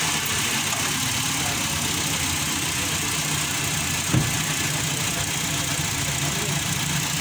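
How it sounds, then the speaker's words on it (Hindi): A tuned Honda City engine idles steadily in a workshop, giving an even, close mechanical hum with a faint rhythmic knock throughout and one small bump near the end. "स्टार्ट है गाड़ी हमारी, इंजन की परफॉर्मेंस चेक कर सकते हैं आप।"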